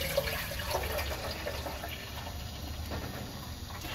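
Cold water runs steadily into a coffee percolator as it is filled to the six-cup mark, a soft continuous trickle heard close by with nobody talking.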